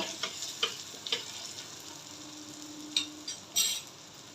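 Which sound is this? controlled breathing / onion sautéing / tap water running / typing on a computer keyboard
onion sautéing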